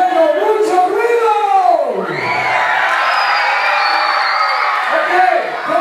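A crowd of children cheers, whoops and shouts loudly and continuously at a passing helicopter during a Three Kings caravan in a neighborhood, a dense wall of young voices rising and falling close by.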